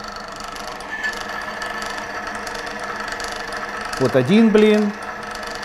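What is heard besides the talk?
squeak of friction in electric motor under added weight load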